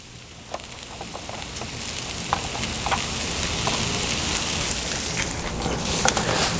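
Two packages of mushrooms fry in oil on a Blackstone griddle, giving a steady, close sizzle with a bright hiss and scattered pops and crackles that slowly build in intensity throughout.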